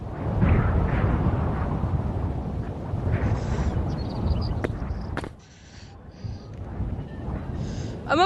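A rocket fires in a video game: a sustained whooshing rush of noise with a rumbling low end, then a sudden drop followed by short game effect sounds and pops.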